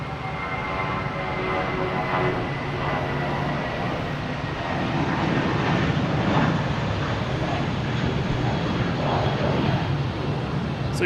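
A Spirit Airlines Airbus A320 jet at Boston Logan Airport produces a sustained engine roar with tonal whine, loud and steady and building slightly, heard from nearby outdoors.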